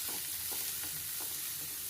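Curry leaves crackling in hot oil as a tempering for ginger chutney, a faint, steady sizzle with soft scattered pops, heard briefly on its own.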